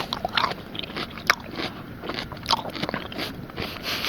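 Close-up ASMR-style bites and crunches into a cucumber, with a few sharp crisp snaps over a constant noisy, wet chewing hiss.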